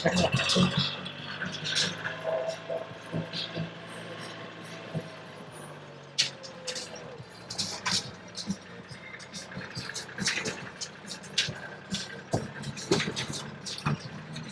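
Tractor ride over a rough, bumpy road to Abungan Falls in Dingalan, with a continuous mechanical rumble, clattering rattles and irregular jolts and knocks throughout, plus occasional voices in the background.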